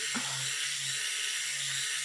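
Cheap electric nail drill from a budget nail kit whirs with a thin, high-pitched hiss, running continuously and faintly close by.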